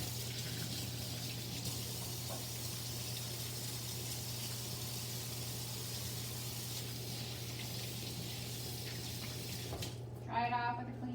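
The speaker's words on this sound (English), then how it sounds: "I'm going to wash my hands" Tap water runs steadily into a sink while hands are washed, a soft continuous splash over a low electrical hum, ending with a brief brighter clatter.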